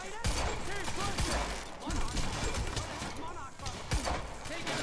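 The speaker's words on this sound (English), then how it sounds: "You heard the gunfire." Gunfire in the video game Quantum Break, rapid bursts of shots crackling amid a busy, loud firefight, with voices talking over it.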